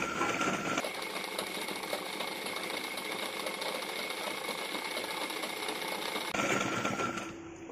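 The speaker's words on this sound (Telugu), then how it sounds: "ఇలా శారీని దీని మీద కరెక్ట్గా పెట్టుకొని ఇలా పెట్టుకొని రెండు జాయింట్ అయ్యే విధంగా కలిపి కుట్టుకోవాలి" A sewing machine stitches a fall onto a saree with a steady, fast mechanical whir and rhythmic needle chatter. It runs continuously for several seconds before slowing to a stop.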